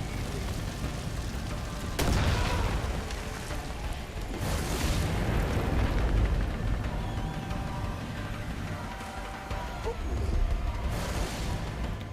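Explosions and raging fire in Far Cry 5, a few heavy booms bursting over a steady crackling, roaring background, loud and sustained with no talking.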